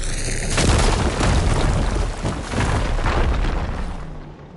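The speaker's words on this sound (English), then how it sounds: "Should be able to blow up that fire gleam." A fire gleam explodes in the video game Horizon Forbidden West, a loud, close boom followed by a long rumbling burst of crackling debris that slowly fades.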